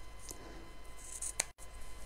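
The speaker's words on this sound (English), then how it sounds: "I need to cut some ribbon for the ties." Scissors snipping through sewing ribbon for apron ties, a few quiet crisp clicks and one sharp cut close by in a quiet room, with no talking.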